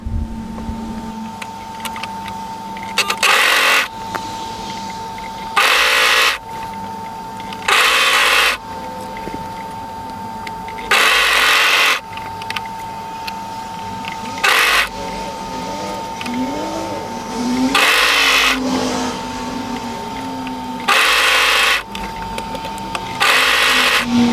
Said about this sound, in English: So just when you're ready, overlock that together.